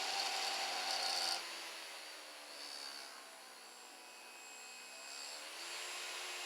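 A micro rotary spark gap motor runs steadily, giving a continuous high, buzzing whir that holds at a fairly even, moderate level throughout, louder for the first second or so before settling.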